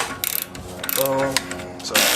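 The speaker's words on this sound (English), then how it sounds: "This ratchet just makes it quicker" Ratchet wrench turning a bolt on an S550 Mustang axle: a short run of quick, close clicks, then a grinding mechanical stretch, with someone briefly speaking.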